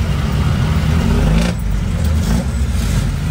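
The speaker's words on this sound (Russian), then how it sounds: "Итак, мы сейчас будем кататься на этом джипне." Jeepney ride through Manila traffic: a loud, steady engine drone and road rumble from inside the vehicle, with no break across the short stretch.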